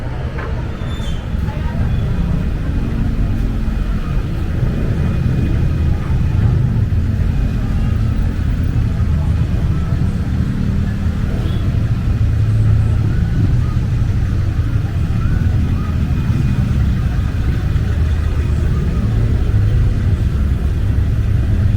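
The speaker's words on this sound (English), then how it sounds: "heavy traffic" Heavy street traffic at night on Fields Avenue in Angeles City, a steady loud rumble of cars and buses with engines droning continuously, close by and unbroken for the whole stretch.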